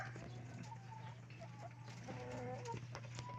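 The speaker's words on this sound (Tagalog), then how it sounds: "Ayan yung broiler ng pamangkin ko" Broiler chickens cluck on a farm, with several soft, short clucks and calls from a few birds close by over a constant low hum.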